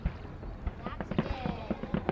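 Big fireworks exploding at the Australia Day display in Perth, a series of distant booms and crackles spread across the moment at a low level, with crowd noise underneath.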